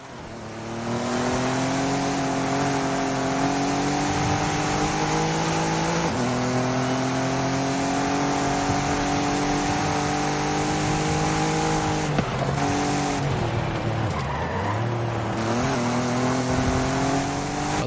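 Racing cars in a video game race, including a battle with a BMW, roar with steady high-revving engines over a long stretch, with shifting pitch and a brief tire squeal and dip near the end, with no talk.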